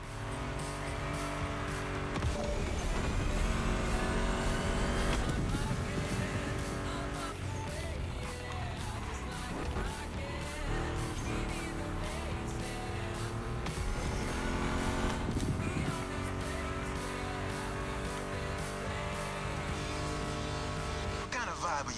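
A Ford Mustang GT muscle car's engine in The Crew Motorfest growls and revs steadily under a rock music soundtrack, with tire noise and shifting engine tones running through the whole stretch.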